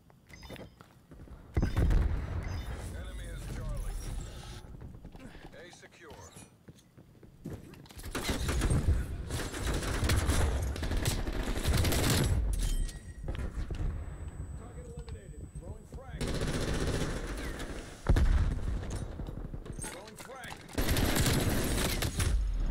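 Gunfire in Call of Duty Black Ops Cold War during a Domination match, rapid automatic bursts and single shots in loud clusters with brief lulls, mixed with thuds and game effects, a player talking over it.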